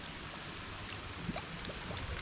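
Water trickling and draining through a cracked stone during plumbing repair work, a faint steady dribble with a few small splashes, close by and alone.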